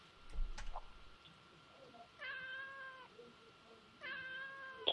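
A cat in the Alice Mare video game gives two drawn-out meows a couple of seconds apart, clear and moderately loud after a brief thump, with a sharper sound cutting in at the very end.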